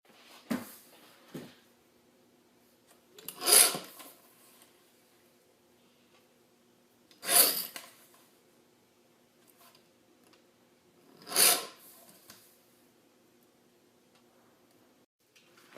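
A child's portrait drawing is trimmed down to 4x6 size: three short, crisp cutting swishes spaced about four seconds apart, close and isolated, with a couple of faint clicks near the start.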